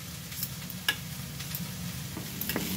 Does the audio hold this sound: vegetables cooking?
yes